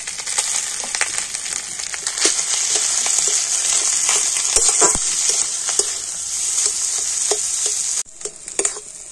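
Mashed boiled potatoes frying in oil with ginger and green chili, a close continuous sizzle broken by repeated scraping and stirring knocks of a spatula, with a brief dip near the end before the stirring resumes.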